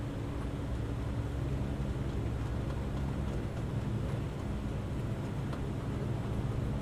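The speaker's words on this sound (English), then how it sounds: "The engine sounds are amazing on this Dash-8." Dash-8 Q400 turboprop engines in X-Plane 12, a steady, broad droning hum and hiss that holds evenly throughout with no other sounds.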